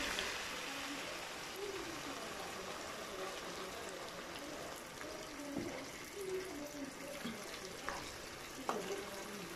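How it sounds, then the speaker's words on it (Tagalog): Water trickles and splashes into a pan of sautéed sayote with ground meat, a steady liquid wash with small bubbling bursts near the end, no talking. "lagyan na natin ng tubig"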